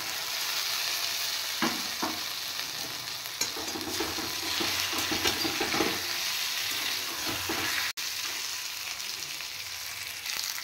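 Fried fish pieces going into a red chilli masala in a pan for a Bengali bam (eel) fish curry, with steady sizzling and intermittent scraping stir strokes, fairly close and without speech.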